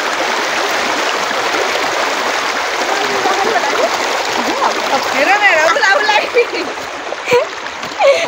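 A small mountain stream rushes and splashes steadily as someone wades across it on foot. The water is loud and close, with a voice talking over it.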